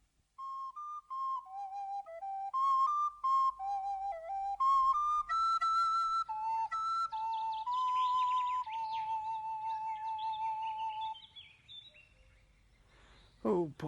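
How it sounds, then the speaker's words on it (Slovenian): A whistle pipe made from an elder branch plays a wandering melody of clear, bright held tones and short runs, close and steady, with a brief noisy burst at the end. "Jaz pa si bom iz bezgove veje naredil piščal."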